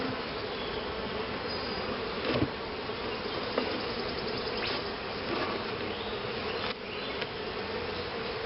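Honey bees buzzing around an open hive during an inspection, a steady dense hum of many insects close by, with a few brief scraping knocks from handling the frames.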